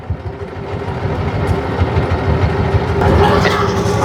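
A boat engine runs steadily on a river crossing toward a char island village, a low rumbling throb that holds constant and grows slightly louder toward the end, with faint voices in the background.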